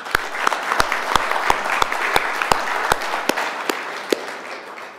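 An audience at a Korean American community gathering applauds. Dense clapping fills the room, and a few sharp individual claps stand out at a steady rhythm above the crowd.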